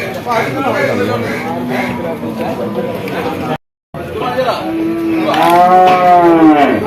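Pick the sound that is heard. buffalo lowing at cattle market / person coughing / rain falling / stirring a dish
buffalo lowing at cattle market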